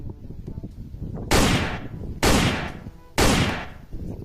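A Spider-Man and Captain America themed toy gun fires three loud, sharp electronic shot sounds, each followed by a decaying burst, while a voice talks excitedly in the background.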